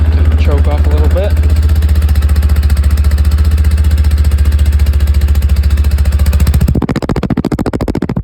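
A cold small engine idles with a rapid, steady, close thumping putter while its carburetor is adjusted, shifting speed near the end; someone talks briefly over it early on.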